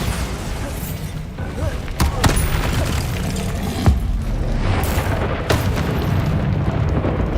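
Bombarda spell blasts in Hogwarts Legacy boom repeatedly amid constant loud combat noise, with several sharp impacts standing out over a continuous rumbling wash.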